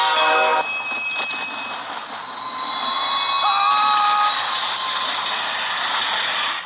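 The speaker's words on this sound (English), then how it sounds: "A chase locomotive attempting to aid the runaway rear-ended it" A runaway train is rear-ended by a chase locomotive in the disaster film Atomic Train, with loud, continuous rail noise and screeching metal wheel squeal, shrill tones rising near the middle, and no talking.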